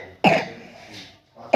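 A woman coughs once, sharp and close, with a throaty tail, then starts a second cough right at the end.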